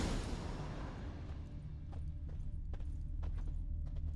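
Hooves of Eskel's horse Scorpion clip-clopping in the video game The Witcher 3, a series of light, spaced thuds over a low ambient rumble, fairly faint and steady.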